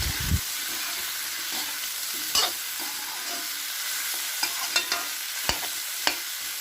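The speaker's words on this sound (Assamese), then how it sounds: "ভালদৰে মাংসখিনি ভাজি লৈছোঁ" Pork sizzles steadily in a hot pan, with a few sharp clinks and scrapes of a spoon stirring now and then; no voices.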